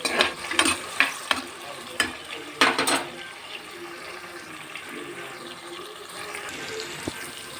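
Onions and tomatoes for chicken curry sizzling and softening in a pan, with a few loud stirring scrapes early on and then a steady low frying hiss continuing alone.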